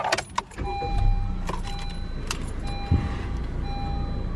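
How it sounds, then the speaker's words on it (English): A 2018 Honda Civic Hatchback starts up from inside the cabin, with a brief crank followed by a steady, close engine idle and faint electronic dashboard tones. "Let's start the car up and I'll show you what I mean"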